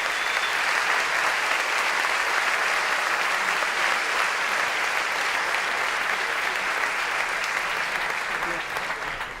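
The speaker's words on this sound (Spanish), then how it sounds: "También pido un fuerte aplauso para ellos." A conference audience applauds steadily, a dense and even wash of many hands clapping at full strength that tapers only slightly at the very end.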